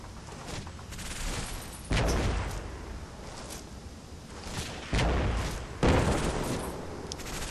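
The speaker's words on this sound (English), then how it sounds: "Can see the mortars dropping down over in the distance." Mortar rounds drop in the distance in a Combat Mission battle, with a steady roll of gunfire and muffled booms. Several louder blasts land at intervals over a constant crackle of fire.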